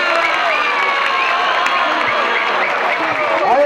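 A crowd at a Brazilian street rap battle claps steadily and loudly, mixed with cheering and whoops, close and continuous throughout with a shouting voice partly audible.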